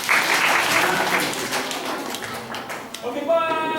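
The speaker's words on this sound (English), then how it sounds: "Okay, clap for me." Children in a classroom-style gathering with a puppet performer clap together in a dense burst of applause, with a few voices mixed in toward the end.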